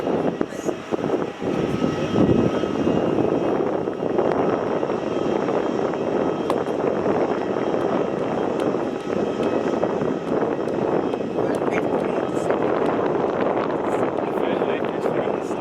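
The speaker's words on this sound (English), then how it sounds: "As we have the Qantas 717 now taking off" A QantasLink Boeing 717 jet takes off at Melbourne Airport, its engines a loud, steady roar that holds throughout while people talk nearby.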